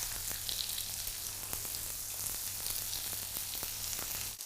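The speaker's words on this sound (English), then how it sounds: "so I'll fry them in 2 batches." Saltimbocca with sage leaves frying in a pan, a soft, even sizzle that holds steady throughout, with a few faint ticks and no talking.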